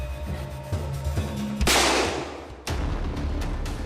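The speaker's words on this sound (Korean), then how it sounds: "총소리가 난 직후 쓰러진 사람들" A sharp, loud gunshot from a prop pistol loaded with a live round cracks suddenly on a ranch film set, followed by a decaying echo, then another abrupt bang over low background noise.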